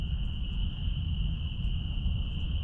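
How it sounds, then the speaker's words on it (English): Steady, continuous cricket chirping fills the night air at an urban campsite, a constant high trill over a low rumble of background noise with no voices. "Even if I boost the audio, you're just gonna hear crickets and frogs."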